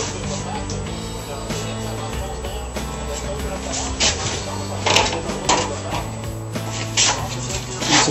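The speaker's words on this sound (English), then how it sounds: "insert the flange into the multi-roll single slot. Hold it in at the bottom, pull around by hand." A multi-roll tool bends a metal flange by hand, giving uneven clicks and scraping knocks over a steady low hum while someone talks.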